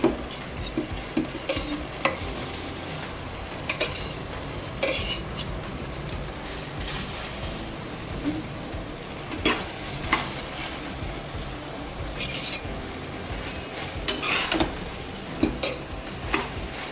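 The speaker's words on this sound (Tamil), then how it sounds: "அப்படியே சேர்க்கும் போதே நம்ம வந்து லைட்டாக அப்படியே கிளறி விட்டுருவோம்" Cooked rice is stirred into fish biryani masala in a pot with a soft background sizzle, broken by intermittent scraping strokes and metallic clinks of the spoon against the pot.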